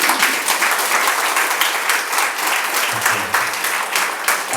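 Steady, dense audience applause at a mental health music evening, many hands clapping continuously at even strength throughout, with a brief voice murmuring partway in.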